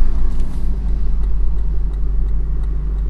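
A 2021 Lexus LC500 Convertible's engine idles with a deep, steady rumble, loud and close, with no talking.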